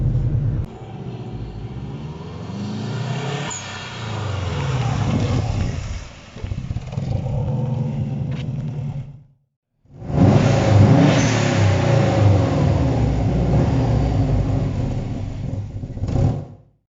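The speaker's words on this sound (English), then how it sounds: "it sounds awesome. The blow valve does work." Subaru Impreza GC8 with EJ20 engine revving hard through a newly installed blow-off valve, two long loud rev runs separated by a brief silence, with rising and falling engine pitch and valve hiss.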